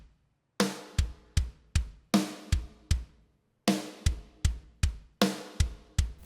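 Kick drum pattern from a Get Good Drums One Kit Wonder sample kit for a shoegaze beat, with deep thumping kicks woven between ringing snare hits in a steady, repeating groove, loud and close.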